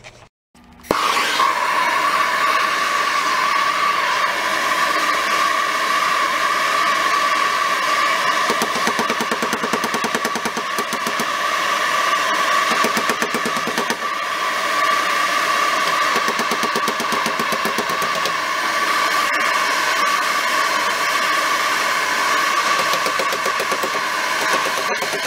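A heat gun runs continuously on the metal bodywork of a 1965 Karmann Ghia, a steady loud whirring blow that starts abruptly and holds without break.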